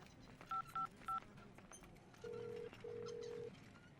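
A mobile phone keypad dialing a call: three short beeping tones in quick succession, then two longer steady tones, faint against a quiet background.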